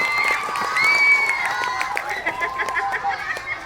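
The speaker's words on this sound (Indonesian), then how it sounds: "Tepuk tangan untuk Nicholas." Students in a classroom applaud and cheer a classmate, a short burst of clapping mixed with chatter and shouts, fairly close, with excited voices riding over it.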